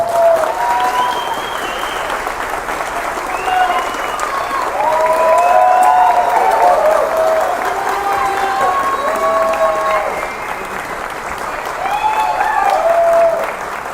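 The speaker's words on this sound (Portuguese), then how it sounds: "Quero uma salva de palmas pros caras." A political rally crowd in Maringá, Paraná applauds and cheers for several seconds, with steady clapping under shouted voices and cheers that swell and fall in waves.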